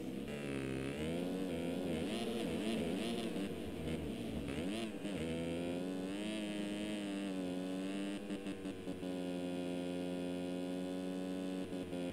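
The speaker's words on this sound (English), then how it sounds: "Here you can really hear Burkeen with that low revving 250F power" A steady, buzzing 250cc four-stroke motocross engine drones throughout in a supercross racing video game, the pitch wavering and dipping as the throttle shifts, with a harmonic whine and no talking.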